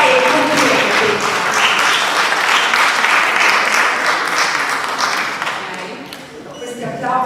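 A crowd applauding steadily and loudly at a book presentation in Sanremo, the clapping thinning out toward the end.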